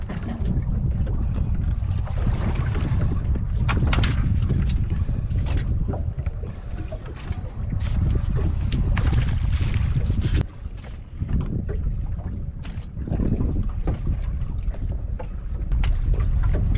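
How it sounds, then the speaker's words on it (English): Boats motoring past off Catalina Island, a loud, steady engine and hull rumble close by, mixed with wind buffeting the microphone and water noise, continuous with no talking. "Catalina boat traffic."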